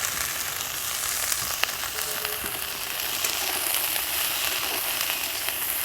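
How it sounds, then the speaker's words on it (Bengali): Cauliflower frying in a pan with salt and turmeric over low heat: a steady, even sizzle with light crackling, moderately close and continuous with no talking. "এবার এটা হালকা আঁচে ঢাকা দিয়ে দিয়ে ভাজতে হবে"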